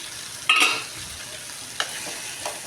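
A pan of curry cooking on a stove, with a short scraping stir and a burst of sizzling near the start, then a couple of lighter clinks and quiet frying, close and alone.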